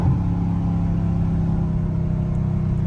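Dodge Challenger Scat Pack engine rumbles steadily at low revs while downshifting in traffic, a loud, even, deep drone heard from inside the car without a clear rev change.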